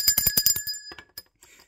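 A bright bicycle-style bell rings rapidly several times, then a few softer, scattered dings trail off into quiet.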